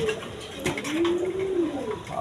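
High Flyer and Giribaz pigeons coo close by, a soft low rolling call that rises and falls over a second or so, against faint background noise.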